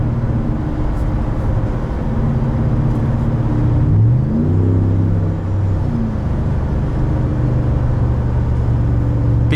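A 2020 RAM 1500 Rebel with a 5.7 V8, S&B intake and Carven exhaust gives a deep, steady rumble from inside the cab, then a quick throttle blip that rises and falls in pitch before settling back to cruise.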